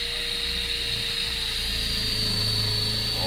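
Power drill boring through the metal roof of a van during a solar panel installation on a motorhome conversion, a steady whining drone with a constant high-pitched tone, close and continuous throughout.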